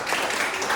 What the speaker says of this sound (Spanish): entonces, un fuerte aplauso.